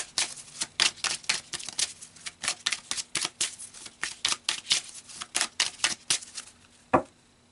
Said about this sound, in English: let's pull some cards and see the awakened aspects in this relationship over the month of April